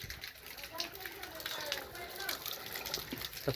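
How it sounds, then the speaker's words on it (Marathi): Water rushes steadily from a tap, a continuous hissing flow at moderate loudness, with people talking over it. "नळाला पाणी आले"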